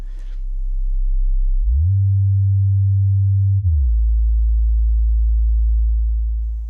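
Alpha-band brainwaves rendered as a steady, pure electronic tone, very low and humming, stepping up to a slightly higher pitch for about two seconds before dropping back, loud and alone.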